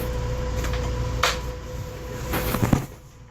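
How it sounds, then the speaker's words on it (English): A passenger train moving along the rails, heard from inside the carriage: a steady low rumble and hum with a faint tonal whine, broken by a few brief clunks and rattles. "We're in the train and we're officially moving."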